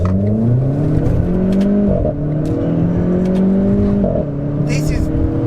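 A Renault Clio RS pulls away with its engine revving hard through the gears, loud and close from inside the cabin, the pitch climbing and dropping at each shift, while someone talks over it.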